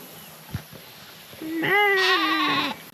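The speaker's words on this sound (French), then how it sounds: "Là, il y a des petits moutons." A small sheep on Madeira gives one clear, loud bleat lasting about a second, preceded by a few soft thumps and rustles outdoors.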